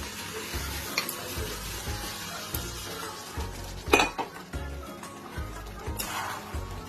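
Peas frying with chicken keema in a pan, continuous sizzling with scrapes and clinks of a spatula against the metal pan, one sharper clatter midway, no talking.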